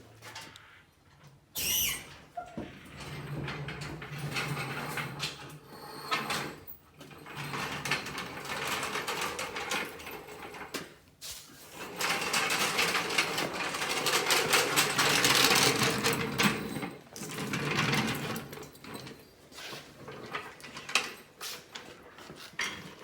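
Car jack being let down and cranked up under a Jeep Grand Wagoneer, a long run of ratcheting, clanking mechanical strokes, close and loud, with short pauses between bursts.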